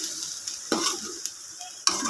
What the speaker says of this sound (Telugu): దీన్ని మంచిగా ఫ్రై చేసుకోవాలి